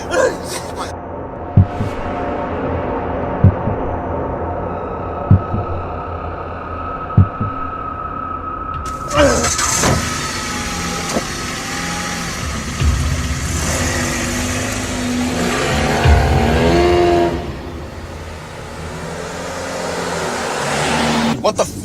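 A car engine revs and the car drives off, a low throbbing rumble that swells and shifts with thumps and clatter around it, amid tense shouting in a crime drama.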